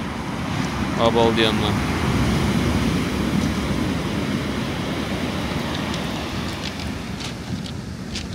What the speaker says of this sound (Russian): Посмотрите, как она пробивает просто опоры.